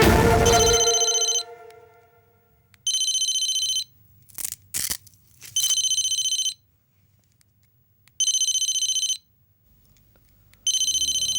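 A telephone rings in repeated bursts of bright electronic trilling, each lasting about a second and separated by pauses, with a brief clatter between early rings and low background hum.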